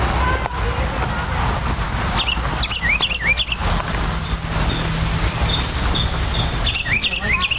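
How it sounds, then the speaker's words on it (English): Blue jays call in a garden, several sharp, rising cries in short bursts against a low background rumble. "I recognize some of the more common birds, the blue jays."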